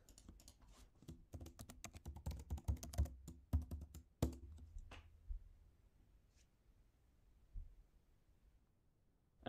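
Fingers type a password at a computer keyboard while logging in to the AWS Management Console, a quiet, rapid patter of key clicks that thins out into a few scattered taps.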